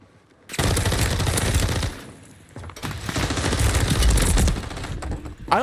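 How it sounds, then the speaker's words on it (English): Rapid bursts of automatic gunfire in the Warzone battle royale game, two dense volleys separated by a brief lull, loud and close with no talk over them. "I think someone else is shooting at him now, actually"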